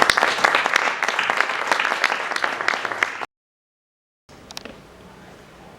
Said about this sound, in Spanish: Por favor, un fuerte aplauso para Cris Aparicio